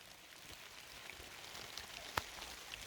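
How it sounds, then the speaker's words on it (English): Heavy rain pours steadily in a garden, a soft continuous hiss of drops on surfaces with an occasional louder close drip, faint and distant, with no talk. "it's pouring with rain"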